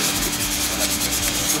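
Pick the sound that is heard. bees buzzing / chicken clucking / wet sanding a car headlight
wet sanding a car headlight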